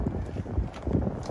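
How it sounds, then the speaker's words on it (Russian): Steady wind buffeting the microphone, a low rumbling roar with gusty swells throughout. "Ветер какой-то начался у нас тут."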